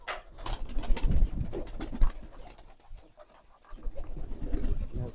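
Hungry pigeons coo in a loft before their morning feed, with soft, low, throaty calls repeating close by over faint rustling and background noise.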